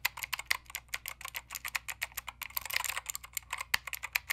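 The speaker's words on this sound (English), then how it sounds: "I'm low-key a keyboard nerd, and has the Cherry MX Blue switches, which are my favorite switches out of all the switches out there because it's very click" Typing on a mechanical keyboard with Cherry MX Blue switches: a close, rapid series of crisp, sharp clicks in uneven bursts, with a slightly busier flurry midway.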